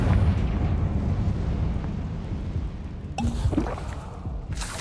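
A Confringo fire spell explodes in the video game Hogwarts Legacy: a loud, continuous fiery roar and rumble, with sharper blasts bursting through near the end.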